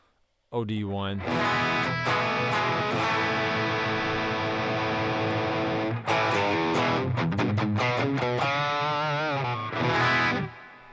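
An electric guitar played through an OD1 overdrive pedal emulation with a gritty tone, strummed chords and riffs ringing continuously, a short pause midway, then a burst of choppy picked notes.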